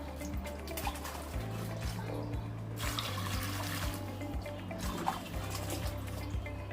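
Water poured into a styrofoam box for a home hydroponics setup, a soft continuous trickling and splashing with a low hum underneath, fairly faint and steady throughout.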